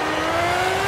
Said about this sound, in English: Oh, this sounds like a Formula One car.